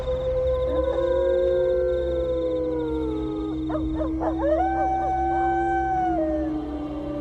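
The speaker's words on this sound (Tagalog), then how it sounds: "Bigla akong nataranta ng marinig ang sunod-sunod na alulong ng aswang, Madam Venus." An aswang creature lets out repeated long, wavering howls that rise and fall, loud and close over a steady low rumble, with a brief cluster of shorter yelps midway.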